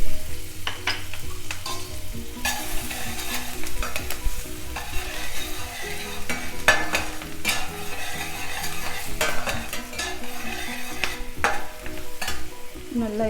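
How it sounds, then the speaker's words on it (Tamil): Chopped green chili, ginger and garlic stir-fried in a pan for masala pasta, a steady loud sizzle with repeated scraping and stirring clatter throughout, no talking. "அதுக்கப்புறமா க்ரீன் சில்லி, ஜிஞ்சர், garlic 2 3 சாப் பண்ணி வச்சிருந்து போட்டுக்கலாம்"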